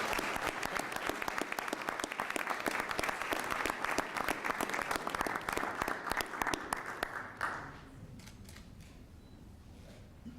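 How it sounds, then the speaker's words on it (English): A crowd applauds steadily with dense clapping for several seconds at a city council meeting in Elmhurst, then it cuts off and faint room noise remains. "One more round of applause."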